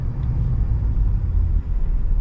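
A 2022 Ford F-350 Super Duty Limited pickup drives along with a steady, heavy low-frequency engine and road rumble, loud and continuous, with a brief dip near the middle and no talking.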